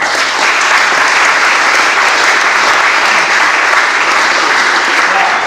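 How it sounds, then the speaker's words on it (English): A large debate audience claps loudly and continuously, a dense, even wall of applause with no break from start to finish. "So, a final round of applause for our platform."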